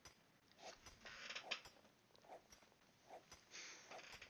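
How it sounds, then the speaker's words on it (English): A chair squeaks and creaks repeatedly at an uneven rhythm, soft and close, with faint rustling in between. "If you hear the squeaking on my chair"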